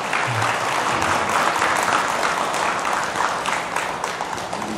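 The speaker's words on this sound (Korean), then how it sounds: "네, 박수 한번 보내주세요" Sustained applause from a seated temple audience at a Saturday Buddhist dharma service, dense steady clapping filling the hall for the whole stretch, fairly loud and without talk.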